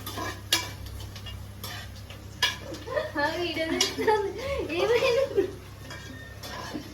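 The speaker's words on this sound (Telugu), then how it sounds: "ఇప్పుడు ఆనియన్స్ వేగుతున్నాయి ఫ్రెండ్స్" Onions frying in a pan while a haleem is cooked at home, a soft sizzle with scattered clinks and scrapes of a utensil, while a person talks over it.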